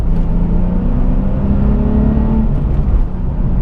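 A Nissan 370Z engine revs and pulls in third gear from a little above 3,000 RPM, a steady, loud, close droning growl with a gently rising pitch throughout.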